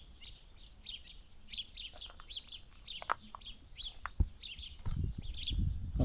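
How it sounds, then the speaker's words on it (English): Many house sparrows bathe in a roadside pond on the Alentejo plains of southern Portugal, giving repeated short chirps at a distance, with some low splashing and rustling toward the end. "Loads of house sparrows bathing in the pond by the road there."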